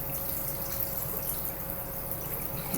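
A tap runs water during a rental property inspection. A continuous, soft trickle and spatter runs at a steady level throughout, with no talk.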